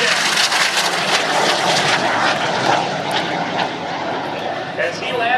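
F-86 Sabre jet roaring past at an air show, a loud, broad rushing engine roar that holds steady then slowly eases, with an announcer's voice faintly under it.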